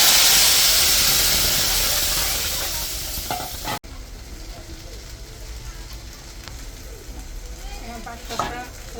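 Garlic and broken dried red chillies fry in hot oil for sambar, first as a loud, bright sizzle that fades, then as quieter crackling with a few stirring scrapes after a sudden drop.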